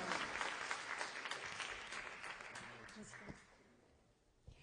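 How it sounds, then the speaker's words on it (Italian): An audience at a book award ceremony applauds in a hall, a full burst of clapping that gradually thins and fades toward the end. "Un applauso veramente grande a Giovanni Improta"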